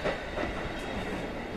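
A train runs in the horror video game Tsugunohi, a steady, fairly quiet rolling rumble with faint rhythmic rail clatter and no voices.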